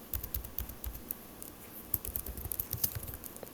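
Quick, light key clicks on a computer keyboard as a city name is typed, a close, irregular patter of taps lasting a few seconds with no voices.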